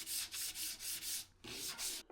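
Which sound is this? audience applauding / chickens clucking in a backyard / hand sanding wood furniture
hand sanding wood furniture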